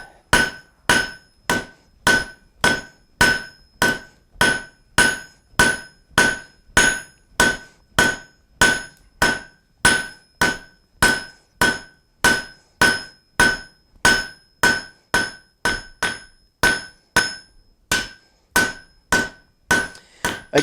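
A hammer strikes hot steel over and over while drawing out the point of a turkey foot fire poker, with sharp, ringing blows at a steady rhythm of about two per second, close and loud.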